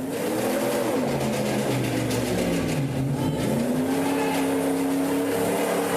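A car engine revs hard and steadily as the gas pedal is floored, a loud, continuous wavering drone that climbs and dips in pitch for the whole stretch, with a rough mechanical edge.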